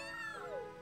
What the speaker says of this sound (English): That sounded more like a meow.